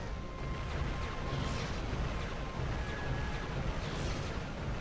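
Ship-attacking weapon fire in the video game Asura's Wrath: a dense, continuous barrage of booming blasts and crashes that stays loud and steady throughout, with no voices.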